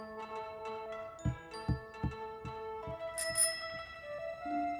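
A bicycle bell from a tiger bike in a cartoon setting, rung several times in a quick series of bright metallic dings with ringing tones, clear and close.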